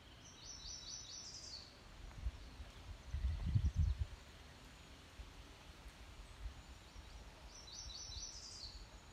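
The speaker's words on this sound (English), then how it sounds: "I'm hearing song sparrows" Bursts of high, trilling song sparrow song at the start and end, with a soft rustle and a brief low thump between them in a quiet outdoor setting along the Carmel River.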